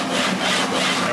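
A sandpaper sled slides back and forth along rails over wood, giving a steady, close scratchy rasp that swells and eases with each stroke.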